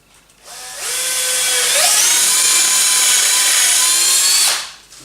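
A power drill bores into a wooden table frame, winding up to a steady high whine that rises in pitch once and holds for about four seconds before cutting off, loud and close with no talk.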